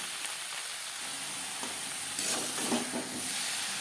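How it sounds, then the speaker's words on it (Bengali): Ridge gourd sizzles in a pan over a high-to-medium flame, a soft steady hiss broken by light scraping and stirring strokes, the spatula scrapes growing busier toward the end; no one speaks. "একটা ঝিঙে গোটা রয়ে গেছে হাই টু মিডিয়াম ফ্লেমে তিন চার মিনিট নাড়াচাড়া করে নেব"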